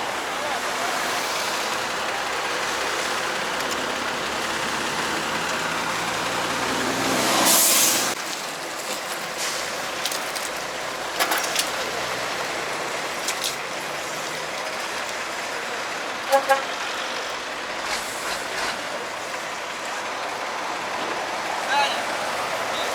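Near a multi-truck accident on the A107 road, heavy trucks rumble and manoeuvre with broadband engine noise and a brief hissing air-brake burst. Voices talk at moments over the steady roar.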